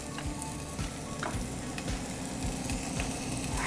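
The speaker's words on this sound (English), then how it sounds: "I just wanna make the onion cook until it's soft first" Onions and garlic fry in a pan for a vegetable pumpkin soup, giving a steady close sizzle broken by soft scraping stirs, with no voices.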